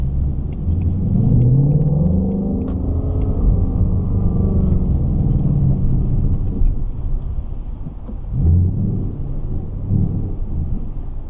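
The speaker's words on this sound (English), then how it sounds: "it doesn't make noises like this engine, right?" A Ford Mustang GT drives through city traffic at night with a continuous low engine rumble that swells and eases as it accelerates, loud and close from inside the car with no one talking.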